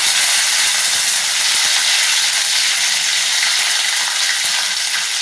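Chili and curry leaves frying in hot oil with cumin and mustard seeds for dal khichda, giving a loud, steady sizzling hiss that fills the whole stretch with no talk.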